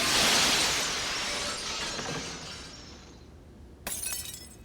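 A large plate glass window shatters as a film sound effect, a loud hissing crash of breaking glass that slowly decays, then a second sharp smash of glass near the end.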